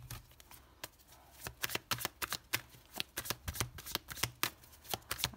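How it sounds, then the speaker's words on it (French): Tarot cards being shuffled by hand, quick riffling bursts of crisp flicks and taps, close but quiet, no talk. "Maintenant, on va prendre 4 cartes."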